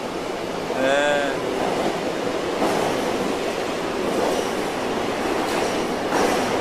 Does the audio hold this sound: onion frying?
no